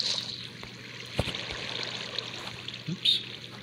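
Water flowing in Minecraft Bedrock Edition, a soft steady trickling stream with faint splashy pops and brief clicks, fairly quiet and close.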